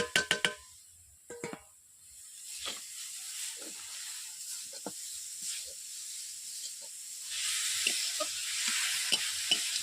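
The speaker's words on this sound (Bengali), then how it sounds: "বন্ধুরা এইভাবে আমি নেড়ে পুরটাকে আমি তৈরি করে নিচ্ছি" Grated coconut and jaggery filling for bhapa and doodh puli pitha is stirred in a pan, with repeated scraping strokes of the spoon over a steady low sizzle that grows a bit louder toward the end, with no talking.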